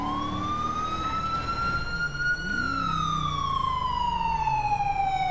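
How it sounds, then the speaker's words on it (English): A police siren in a FiveM video game wails steadily, rising then slowly falling in pitch, loud and close over a low vehicle rumble. "Turn off your siren."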